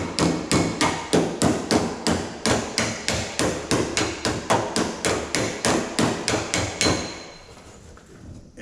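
A hammer strikes a car door panel backed by a dolly, sounding as a rapid, even run of about twenty-five close metallic blows for seven seconds, then stopping and leaving faint room noise, with no voices.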